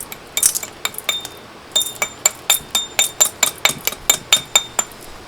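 Slag being chipped off a freshly cast copper bar on a workbench, a quick series of sharp, bright metallic taps and clinks, closely spaced and steady in rhythm, loud and near.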